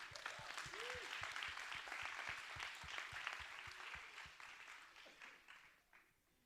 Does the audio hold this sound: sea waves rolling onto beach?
no